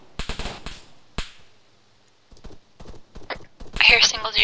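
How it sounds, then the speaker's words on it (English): Single gunman firing from a compound in a military video game: several sharp cracking shots, some in quick clusters and one isolated, with radio-style voice chatter overlapping near the end. "I hear a single dude firing from the compound."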